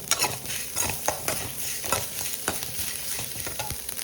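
Loud stirring and scraping in a pan over a steady sizzle as grated coconut fries in masala for a yam curry, with repeated rhythmic strokes of a spoon close by.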